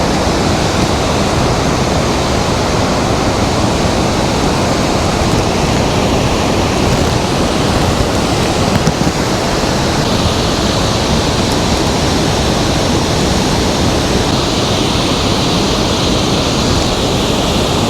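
A towering Himalayan waterfall on the rainy monsoon Kedarnath trek, roaring as a loud, unbroken wash of rushing water close by, with no voices.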